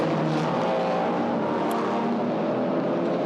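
Touring race cars from a Malaysia Touring Car Championship TP2000 race start together, their engines a dense, loud, sustained roar of many revving motors that fills the whole clip, with no clear talk.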